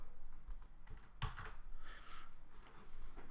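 Computer keyboard keys pressed while selecting files, a few close, soft clicks and taps against a faint steady background hum.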